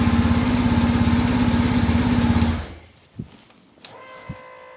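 BMW R1150 GS motorcycle with a battery drain and starting fault: the engine runs with a steady, loud throbbing idle, then cuts out, leaving a few quiet clicks and a faint hum.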